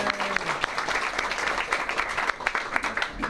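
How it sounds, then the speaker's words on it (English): An indoor audience at a historic house tour gives a warm round of applause, many hands clapping densely and steadily for several seconds, with a brief voice near the start. "Everybody give Justin a hand"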